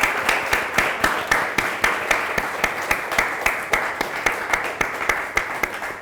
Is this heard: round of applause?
yes